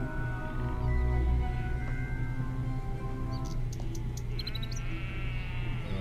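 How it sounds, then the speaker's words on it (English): A sheep in the VR video game Dede Korkut Chronicles bleats in a wavering, drawn-out cry over a steady background hum, with some light chiming tones partway through. "You got some very still sheep there"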